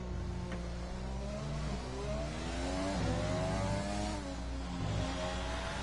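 An F3 race car pulls away from the pit box in a racing video game, its mid-pitched engine revving steadily and rising in pitch as it accelerates, loud and continuous with no talk over it.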